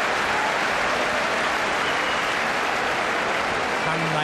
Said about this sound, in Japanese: 館内の手拍子、拍手、